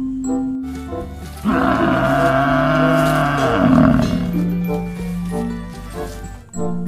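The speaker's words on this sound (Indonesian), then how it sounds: "ini kerbau teman-teman" A water buffalo gives a long, deep lowing call lasting a couple of seconds, close by, with quieter rustling and shuffling before and after.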